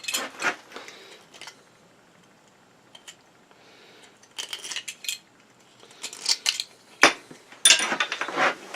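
Knife scraping and trimming a hacksaw-cut end on a homemade candle stick, heard as scattered short scrapes and clicks, faint at first, then denser, louder bursts of close scraping toward the end.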